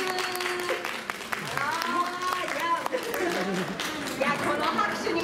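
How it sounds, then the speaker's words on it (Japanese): An audience at a Kumamon stage show claps in a loose, scattered round, with chatter and voices running over the clapping and some stage noise in the background. "見たい方拍手"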